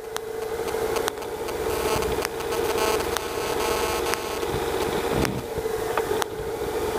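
A Citabria airplane engine idles with a steady, droning hum that holds at an even level throughout, with a few faint clicks.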